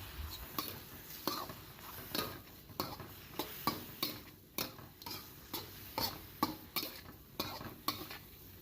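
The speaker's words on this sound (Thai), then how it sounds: "ผัดส่วนผสมทุกอย่างให้เข้ากันดีเลยค่ะ" Mushrooms, egg and tofu are stir-fried after being seasoned with sugar, seasoning powder and light soy sauce: a spatula scrapes the pan in a steady rhythm of about two strokes a second over a faint sizzle.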